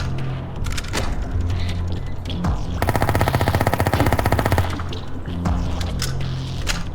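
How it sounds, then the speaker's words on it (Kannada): Gunfire in the IGI video game: a sustained burst of rapid automatic fire that runs for nearly two seconds, framed by scattered single shots and background game noise. "ಇವನ ಹತ್ರ ದೊಡ್ಡ ಗನ್ ಇರುತ್ತೆ, ಅದರಿಂದ ದೂರದಿಂದನೇ ಶೂಟ್ ಮಾಡ್ಬಿಡ್ತಾನೆ"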